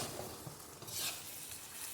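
Slow stirring of fruit murabba syrup in a steel kadhai, a soft continuous scraping and bubbling sizzle as the thickening sugar syrup is worked, steady and close with no voices.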